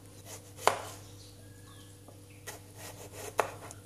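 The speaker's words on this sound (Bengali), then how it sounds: "এটা আমি খোসা সহ কেটে নেব।" A knife chops through a cucumber with its peel still on, giving two sharp, close cuts spaced a few seconds apart with faint lighter taps between, in a quiet kitchen.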